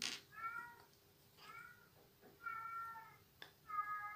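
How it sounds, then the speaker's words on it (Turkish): House cat in heat meowing indoors, four drawn-out plaintive harmonic cries in a row with short pauses between, faint and fairly close, with a soft click near the start. "Evde kedimiz var arkadaşlar. Ve şu an kızgınlık zamanı."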